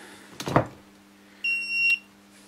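A Minelab-style metal detector, a Contour model, gives a single steady electronic beep at the press of its GPS button, following a brief handling knock, with a faint hum underneath.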